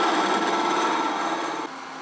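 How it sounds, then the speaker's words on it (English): A drill bit boring a guiding hole into a wooden pedestal box blank spinning on a lathe, a steady close whirring grind that drops slightly in level near the end. "This time I'm going to use a drill."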